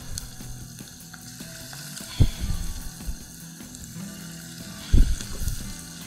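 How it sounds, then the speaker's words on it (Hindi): Marinated chicken pieces frying in a pan, a steady sizzle with two sharp louder bursts as pieces drop into the hot oil, no talking. "इनको मैं अच्छे से मैरिनेशन दोबारा लगा के और एक दफ़ा मिक्स कर लेती हूँ इनको, और हम अलग अलग इसको डाल के ये इस तरह से हम कुछ फ्राई करेंगे"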